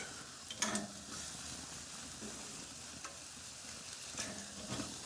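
Meat sizzles steadily in a pan, a close, constant frying hiss broken by a few brief stirring scrapes.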